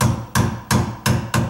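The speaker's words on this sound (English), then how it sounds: "let's just take my hammer." A hammer strikes a garbage disposal mount under a sink five times in an even rhythm. Each blow is sharp and clear at close range.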